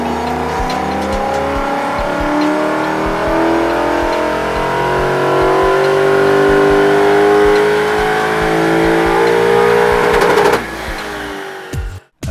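A tuned Lexus IS-F with headers, a custom ECU tune and an aftermarket exhaust revs on a dyno during a power run: a loud, close engine roar climbing steadily in pitch for ten seconds before cutting off abruptly.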